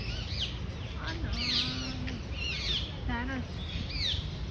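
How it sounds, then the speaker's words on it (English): Birds call outdoors at a nature spot near an ashram, with a parrot among them: repeated sharp, rising chirps and whistles scattered over several seconds against steady background noise, with a voice speaking at moments. "Parrot."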